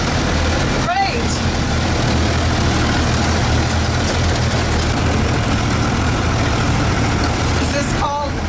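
A Jeep FC Forward Control runs on a trail near Lake Mills, Iowa, heard from inside the cab as a loud, continuous low engine roar with rattling, while people talk over it.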